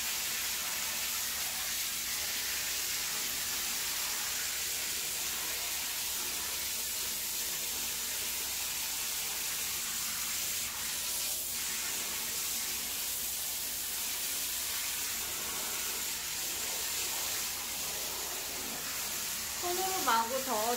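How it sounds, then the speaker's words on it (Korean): A shower head runs into a bathtub filling with bubble-bath water and a homemade bath bomb, giving a constant, even hiss of spray and splashing that continues throughout, with a brief voice near the end. "이렇게 샤워기로 물을 받으면 거품이 풍성하게 잘 나요."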